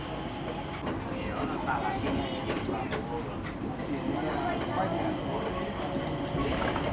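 Changi Airport Skytrain running between Terminals 2 and 3 in Singapore: a steady rumble of the train with rhythmic clicks and rattles, close and continuous, with people talking over it.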